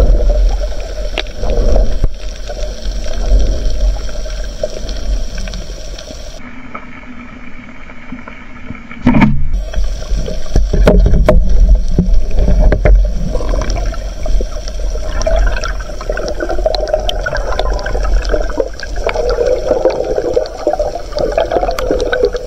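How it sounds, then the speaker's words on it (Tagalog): A strong water current rushes and churns around a small boat, a loud continuous watery roar with splashing surges and knocks against the hull. "Lakas ng agos."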